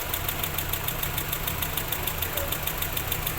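A car engine runs steadily after a timing belt replacement, idling close by with a continuous rhythmic ticking and a low hum throughout.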